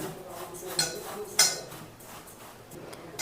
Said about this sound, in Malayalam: ഇനി നമുക്ക് നല്ല രീതിയിലൊന്ന് വിരവിയെടുക്കാം.